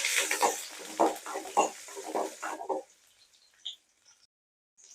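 Shallots and curry leaves frying in oil, a crackling sizzle broken by a few short stirring clunks that runs for a couple of seconds and then drops away to near quiet.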